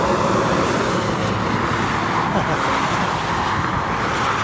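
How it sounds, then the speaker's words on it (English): Traffic on Interstate 94 eastbound roars as a dense, continuous rumble of vehicles, loud and close, from a roadside, with no distinct voices. "all of a sudden, bam, come up to Interstate 94. That's going eastbound"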